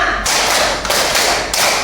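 Pupils in a classroom clap out a five-beat clapping pattern in unison, giving loud, crisp rounds of group claps in a few evenly spaced bursts, up close with no voices heard.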